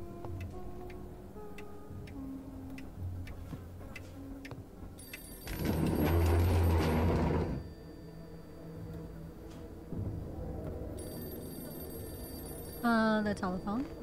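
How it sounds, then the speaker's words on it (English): A telephone bell rings in bursts in an indie horror video game, heard over a steady ticking clock and loud rumbling noises, with eerie tones near the end. "The telephone."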